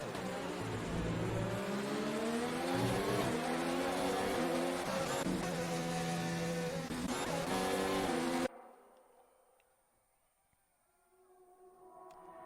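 Formula 1 cars racing at the French GP in an Xbox One racing game whine loudly through shifting, overlapping engine tones for about eight seconds. The sound then cuts abruptly to near silence with only faint traces left.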